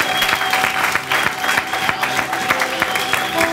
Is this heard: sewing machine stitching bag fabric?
no